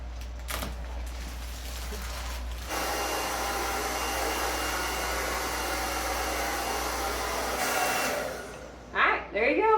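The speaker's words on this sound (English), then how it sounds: "you get to use your blow dryer to shrink the plastic at the very end" A handheld blow dryer runs steadily up close, a continuous whooshing hum as it shrinks plastic window film, cutting off near the end before brief rustling and a voice.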